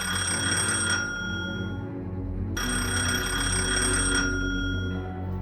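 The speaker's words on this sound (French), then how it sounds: "et le téléphone sonne" An old telephone bell rings in repeated long bursts with a short gap between them, loud and steady over a constant low hum, with no voices.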